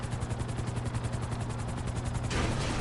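A helicopter in a racing video game, its rotor giving a fast, even chopping pulse that holds steady, then a brighter rush of noise swells near the end; fairly loud and alone, with no talk.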